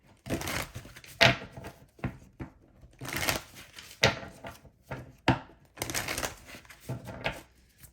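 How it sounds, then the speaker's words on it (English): Tarot cards are shuffled in quick riffling bursts separated by short pauses, close and crisp, with no talking. "let me go ahead and do a quick shuffle"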